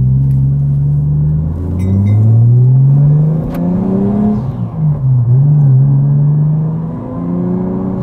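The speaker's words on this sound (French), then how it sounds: "Franchement, mec, j'adore le son de cette caisse" A car engine revs up to a loud, rising roar and then falls away as it decelerates, its deep rumble swelling and dipping in pitch over several seconds, close and without talk.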